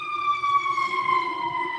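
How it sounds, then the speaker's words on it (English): An emergency siren wails as a vehicle passes outside, one steady, slightly falling tone that stays loud and clear throughout the short stretch, with no talk over it. "sirens going by"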